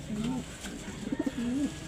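A cock pigeon coos close by: two drawn-out cooing phrases separated by a few short, clipped notes. A voice speaks faintly in the background.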